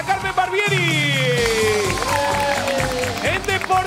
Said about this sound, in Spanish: Fuerte el aplauso para Carmen Barbieri.